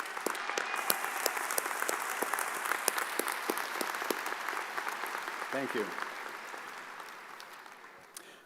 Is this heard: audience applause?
yes